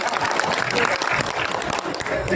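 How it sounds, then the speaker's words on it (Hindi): An audience at a gathering of auto, taxi, bus and truck drivers claps in a brief dense burst of applause, with voices mixed in. "तालियां बजा।"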